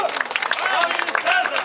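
Applause from a crowd at a neighbourhood Schützenfest, a short burst of clapping with a voice speaking over it throughout.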